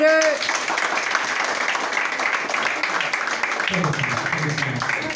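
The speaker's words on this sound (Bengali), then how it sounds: "হাততালি সবাই" A crowd applauds with steady, dense clapping that carries through, while voices talk over it at moments.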